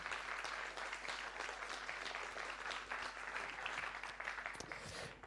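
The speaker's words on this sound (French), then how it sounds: "je voudrais juste qu'on puisse tous déjà applaudir très fort tous les entrepreneurs du Perco" An audience claps loudly and steadily for a group of entrepreneurs at a startup program showcase, a dense, sustained wash of applause from many hands throughout.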